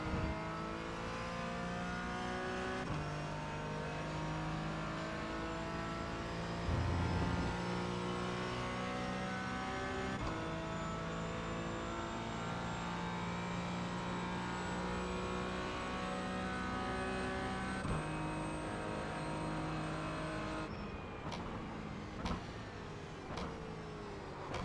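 A race car's engine at the Interlagos circuit holds a steady, loud in-car drone with stepped pitch changes as it shifts down through the gears, with no talking.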